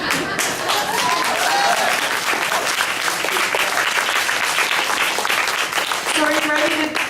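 Sustained applause from an audience at a community discussion event fills the room with dense, even clapping that carries on for several seconds, loud and close, with a few voices faintly audible beneath it.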